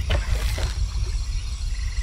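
A frog croaks a couple of times in the jungle of the video game Shadow of the Tomb Raider, short low croaks early on over a steady ambient background with insect hum.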